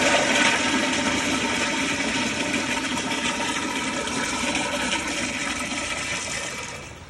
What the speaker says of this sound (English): We'll do some weak flushes and some powerful flushes.